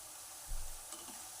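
Spinach shankarpali fry in hot oil as they are stirred, giving a faint, quiet sizzle with a brief low stir bump near the start.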